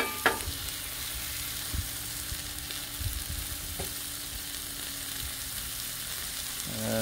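Tri tip steaks sear on a hot griddle with a steady, close sizzle, broken by a few faint clicks and scrapes, and no voices.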